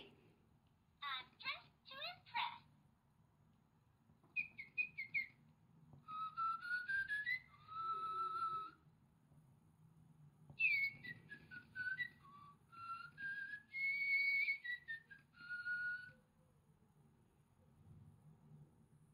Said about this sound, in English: The little live pet bird responds to your touch.